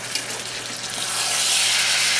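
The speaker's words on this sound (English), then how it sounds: "see how that's got that nice sear on the one side?" Pot roast meat searing in a hot pan, a steady close sizzle that swells louder toward the end, with no talking.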